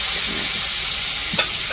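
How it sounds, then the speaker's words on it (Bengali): Fish frying in a pan in a village kitchen: a steady, close hiss of oil sizzling, with a faint clink near the end and no talk. "তো ওইদিকে তো মাছ ভাজতে হচ্ছে"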